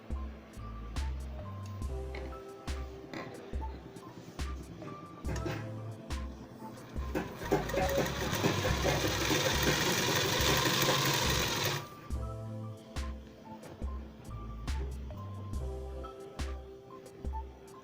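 A sewing machine stitches a flared hem panel onto a midi dress in several runs of rapid needle chatter, with a long, steady, louder burst in the middle, close and without talking.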